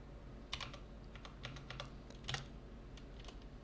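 Quick light keystrokes on a computer keyboard enter a terminal command, an irregular patter of close clicks with a couple of firmer taps, no talking.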